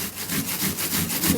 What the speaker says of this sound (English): first of all grate the onion, and I'm going to be doing that in a circular motion